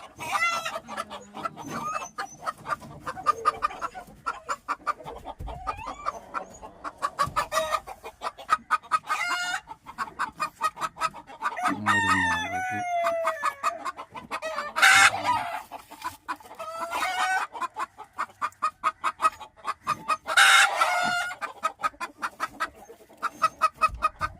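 Native hens clucking and cackling noisily inside a coop, with a rooster crowing now and then; the calls come close and loud in uneven bursts throughout, with no voices.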